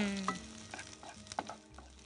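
Food frying in hot oil while being stirred, with close, bright sizzling broken by quick scraping and clattering strokes over about two seconds.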